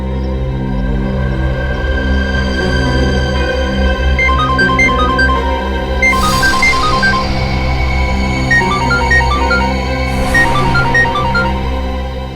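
A melodic electronic phone ringtone plays in repeating bursts of bright notes over a loud, steady, low musical drone in a scene from the TV crime drama CID; no one speaks.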